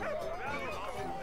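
A dog in the video game Valiant Hearts gives a brief, whiny yelping bark, close and loud, lasting about a second with speech-like game audio mixed around it.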